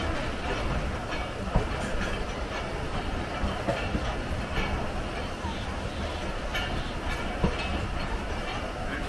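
The Allama Iqbal Express pulls out of the station, a steady, loud rumble of rolling rail cars with faint clattering and occasional clicks throughout, with no clear speech over it.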